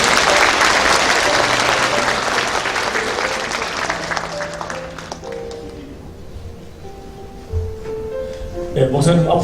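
Loud applause fills a church retirement ceremony for an elder pastor, a dense crowd clapping that gradually fades, with a voice speaking over the tail end.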